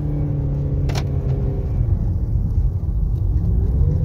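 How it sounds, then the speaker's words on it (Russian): Car on summer tyres spinning its wheels in snow: loud, steady low rumble of the engine and churning, with a brief sharp click early on, continuous throughout and no talk. "Не, просто буксует, не едет."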